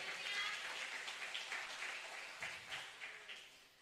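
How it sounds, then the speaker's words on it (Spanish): A church congregation applauding together in a large room during a Sunday service, a sustained wash of clapping with small swells, fairly distant and moderate in volume. "Dale un aplauso a Cristo"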